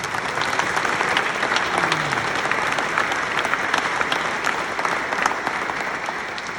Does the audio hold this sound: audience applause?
yes